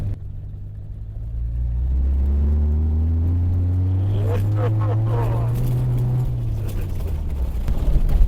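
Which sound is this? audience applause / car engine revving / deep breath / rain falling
car engine revving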